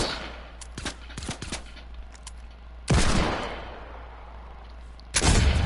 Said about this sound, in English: as soon as we go into first person, we will still be able to shoot these guns